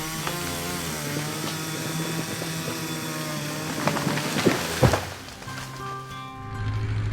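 A forester's chainsaw, a saw motor running steadily, cuts into a standing tree in a forest, loud and close, with bursts of cutting strain before it drops to a lower idle.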